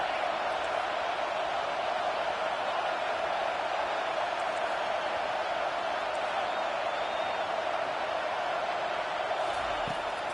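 A stadium crowd at a football game gives a constant, distant roar that stays steady throughout, with no cheer rising out of it.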